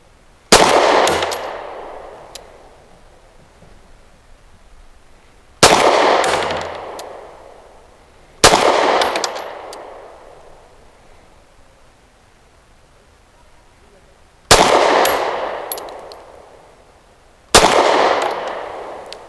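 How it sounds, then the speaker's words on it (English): Five sharp, loud reports from a Beretta APX A1 Compact pistol firing 115 grain ammunition at an outdoor range, spaced a few seconds apart, each followed by a short decaying ring. "5 shots from 7 yards with that New Republic 115 grain"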